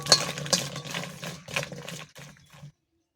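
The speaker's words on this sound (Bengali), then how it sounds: "একটু ভেজে নেব, শুকনো কড়াইতে নেড়ে চেড়ে নেব।" Jackfruit seeds stirred in a dry pan over low heat, giving a rattling, clattering scrape of seeds and spatula against metal for under three seconds before falling silent.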